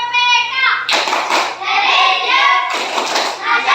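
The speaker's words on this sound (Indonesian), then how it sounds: "Mari kita tepuk PPK dulu" A school class clapping the PPK clap chant in a Catholic religious lesson, with bursts of rhythmic clapping from many hands mixed with children's chanting voices.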